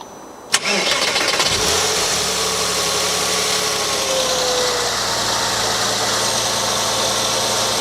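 Porsche engine after timing chain tensioner replacement, heard close: a sharp starter crank quickly fires into life, then settles into a loud, steady idle with no talking.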